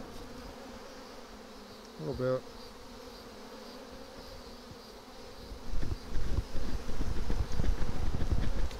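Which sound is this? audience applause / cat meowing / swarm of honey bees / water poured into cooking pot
swarm of honey bees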